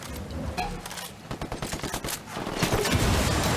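Rebels open fire in Ghost Recon Wildlands, a rapid burst of automatic gunfire that cracks in a fast rhythm. It builds into a denser, louder volley near the end.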